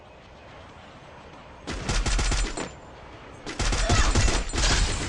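Two bursts of rapid gunfire crackle loud and close in a video game, a long volley followed by a short pause and then a second sustained burst, with no voices over the shots.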